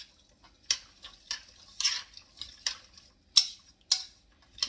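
A spoon mixing brown sugar into food in a pot, a series of light irregular clinks and scrapes against the pot, close and moderately quiet, with no talking.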